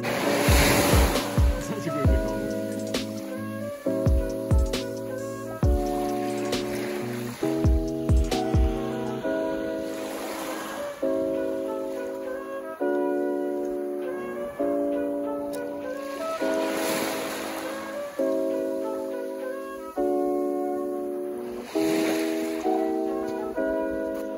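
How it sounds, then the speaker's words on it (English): Waves breaking on a beach, heard as repeated surges and washes of surf under steady music that plays throughout. "Guys, this is a beach. It's absolutely lovely."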